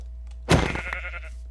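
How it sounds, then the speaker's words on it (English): A sheep bleats once in the Minecraft video game, a short, clear, close call that starts abruptly and fades over about a second, standing alone against a low steady hum. "Kill these sheep real quick."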